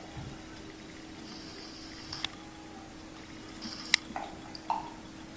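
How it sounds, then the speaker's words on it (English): Carbon dioxide from a fizzing reaction is passed through lime water in a quiet lab setup, giving a few sparse, faint bubbling plops and small drips over a low steady hum. "Fizzing indicates that a reaction is actually happening."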